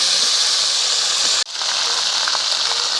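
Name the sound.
sizzling tempering of dry chili, bay leaf, panch phoron in oil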